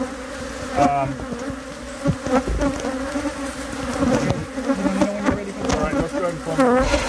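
Honey bees buzzing around an active hive, a dense continuous drone with individual bees zipping close past, loud and near, with handling noises mixed in.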